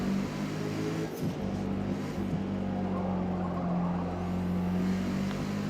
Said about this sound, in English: You can hear the tires getting ready to slip and slide